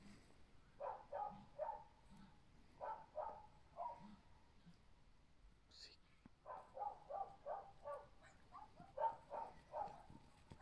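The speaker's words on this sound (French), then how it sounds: "Mon concert de chiens, comme tous les soirs avec les chacals." Repeated bursts of barking from several dogs at night, coming in clustered volleys with short pauses, moderately distant, with a brief higher yelp midway, jackals joining in.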